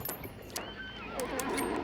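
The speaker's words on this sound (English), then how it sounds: "The horse is active because of all the gunshots that's happening right here" A horse in a shooting video game whinnies faintly, a thin wavering neigh drifting over quiet background noise with a few brief clicks and knocks around it.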